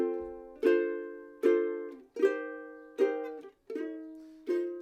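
Ukulele chords from a song plucked one at a time with a walking bass line beneath, six evenly spaced attacks that ring and decay, close and solo.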